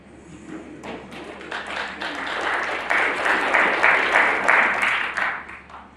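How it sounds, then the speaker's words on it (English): A snooker audience at a professional final gives a restrained round of applause that swells gradually to a soft peak and then eases away, polite clapping heard at a distance in a quiet arena. "Muted applause"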